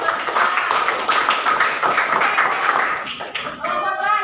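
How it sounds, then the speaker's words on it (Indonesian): Classroom applause during student group presentations in an Indonesian school, a steady wash of many hands clapping throughout, fairly loud and continuous, with a few voices mixed in. "Oke, tepuk tangan buat teman kita."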